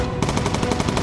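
Rapid machine gun fire in a video game rattles out as a dense, loud burst of evenly spaced shots filling the whole moment.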